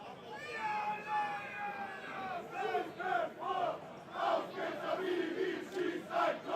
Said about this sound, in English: Home crowd now making themselves heard for their players